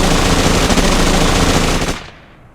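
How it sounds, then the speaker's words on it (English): Minigun in the tabletop game Battlelords, a loud, dense burst of rapid continuous fire filling a hall for about two seconds, then abruptly stopping into a fading tail. "the hall is filled with the sound of the minigun"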